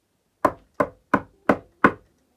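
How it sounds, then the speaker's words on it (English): Five evenly spaced sharp knocks on a door, close and loud, with a steady rhythm and silence between them. "Suddenly, there was a knock at the door."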